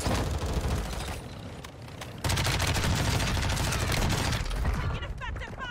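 Gunfire in the video game Warzone on Ashika Island, with SMGs such as the MP5, comes as loud, dense rapid bursts from several shooters, nearly continuous with a brief dip before resuming.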